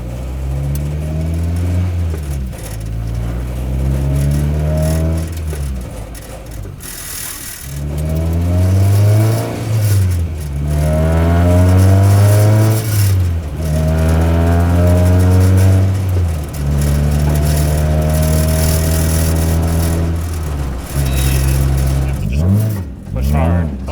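A Datsun roadster with a Miata engine swap revs and pulls through the gears while driving, the engine note rising in repeated sweeps with pauses for shifts, loud and close, with people talking over it.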